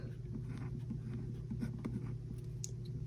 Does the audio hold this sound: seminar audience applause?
no